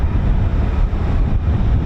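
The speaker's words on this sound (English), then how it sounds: "It is extremely windy." Strong wind buffets the microphone in a steady, roaring low rumble that swells and dips, loud and close, with no voices, at an RAF airbase.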